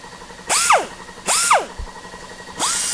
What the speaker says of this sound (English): So I'm using this 1/4 inch angle die grinder